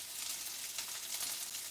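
Shrimp frying in a pan, giving a steady, dense sizzle with a constant hiss of hot oil. Close and even throughout, with no voices.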